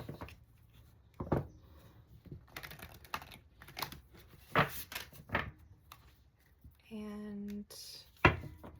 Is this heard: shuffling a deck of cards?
yes